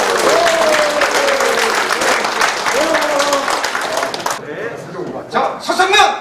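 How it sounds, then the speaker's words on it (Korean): A crowd applauds a city mayor at a Korean town-hall citizens' meeting, with steady loud clapping for about four seconds, then a few scattered claps and voices as it dies down; a voice carries faintly under the clapping. "발로 뛰는 시장님께 다시 한번 큰 박수 부탁드립니다."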